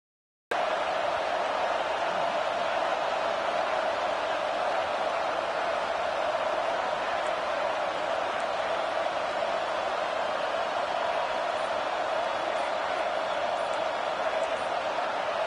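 Steady, loud roar of a stadium crowd at a San Jose State college football game, a dense wash of noise holding at the same level throughout with no clear individual voices.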